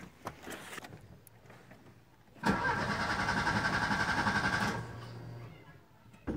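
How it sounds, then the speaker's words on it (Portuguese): A car starter cranks for about two seconds without the engine catching, a loud rhythmic churning that cuts off into quiet ambience; the car has been guzzling fuel, burning 20 liters in only 50 km. "Eu vou tentar bater na partida aqui e tentar escutar o barulho"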